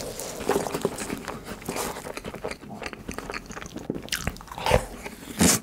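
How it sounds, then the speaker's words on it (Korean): Chocolate mini donuts, eaten two together and dipped in strawberry and chocolate whipped cream, give close, crisp bites followed by soft, moist chewing and mouth sounds, with no talk. "초코 도넛. 도넛 두 개를 같이 먹어볼게요."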